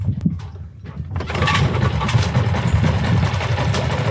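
A small outboard motor on a Catalina 22 sailboat sputters briefly after choking, then catches and runs steadily in neutral at a loud, rumbling idle.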